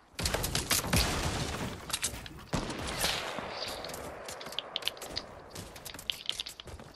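Gunfire in a shooter video game where an enemy jump pad is being shot out: dense bursts of rapid shots and heavy impacts stacked into a near, loud fusillade that barely lets up across the whole stretch, with no one speaking.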